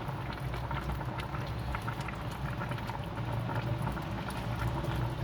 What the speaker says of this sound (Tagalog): Yan guys, kulong-kulo na ang ating salmon.